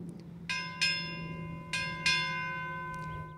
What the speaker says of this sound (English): Time orderly, sound four bells.